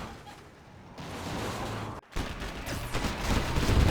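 An Emperor tank explodes in a Command and Conquer: Generals Zero Hour battle, a burst of rumbling blasts and crackling debris amid ongoing gunfire, with a brief dropout before the noisy fighting resumes.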